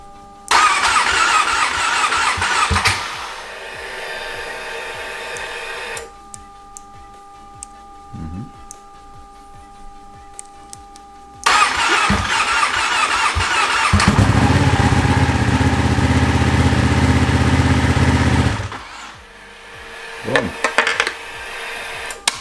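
Ducati Panigale V4 motorcycle turning over and catching, loud starter cranking and then a strong idle. A quieter stretch follows, the engine then roars back with a deep rumble, and a voice speaks near the end.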